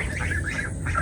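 A young hybrid domestic goose gives a few short, nasal honking calls close by, repeated in quick succession over a low rumbling background.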